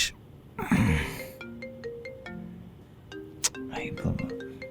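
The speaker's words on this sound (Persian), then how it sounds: "ای بابا، باید این تلفن رو جواب بدم." A phone ringtone plays a short melody of repeated electronic notes at moderate loudness, broken by a gasp and brief talking.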